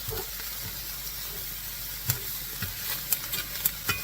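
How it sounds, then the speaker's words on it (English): Ham frying in a pan gives a steady, close sizzle and hiss, with a few sharp pops and crackles spattering through. "when I fry it like this and put a really, really nice brown on it"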